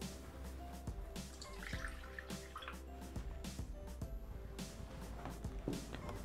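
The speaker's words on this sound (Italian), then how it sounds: "Iniziamo la ricetta mettendo all'interno del boccale una dose del latte." Milk is poured into a Thermomix bowl, making a faint, close trickle with small drips and splashes against quiet background hum.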